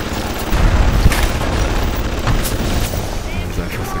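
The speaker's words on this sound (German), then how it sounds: "Jetzt schieße ich gleich so." Gunfire in the video game BioShock aimed at a turret, rough bursty shots and booms over a dense, noisy background of game sound, steady and loud throughout.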